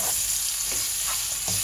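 Dried fish (shutki) fries in a pan, a dense, close hissing sizzle with several soft stirring scrapes spaced through it and no voices.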